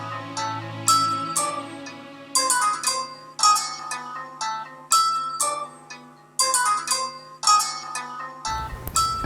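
A mobile phone ringtone plays a bright, repeating bell-like melody in evenly spaced phrases, loud and alone, ending abruptly as the call is answered.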